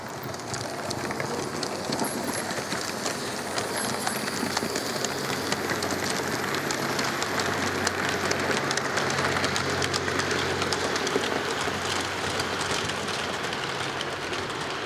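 Four model trains, a passenger and a goods train in each direction, run together on a layout, giving a steady, continuous rumbling clatter with faint clicking wheel noise throughout and no voices.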